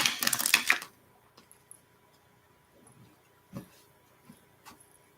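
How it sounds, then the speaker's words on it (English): Tarot cards shuffled by hand in a burst of dense riffling and flicking in the first second, followed by a quiet room with a few faint taps and soft handling sounds. "One more shuffle."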